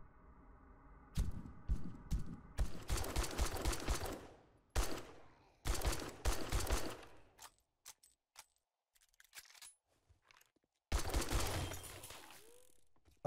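Bursts of tactical rifle fire from an enemy in the zombie survival game 7 Days to Die, sharp rapid volleys broken by short silences, loud and close with no talk over them.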